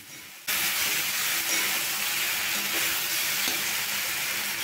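Okra, potato, onion and tomato frying in a pan: a steady, close hiss of sizzling oil that starts abruptly and holds evenly throughout, with no voices.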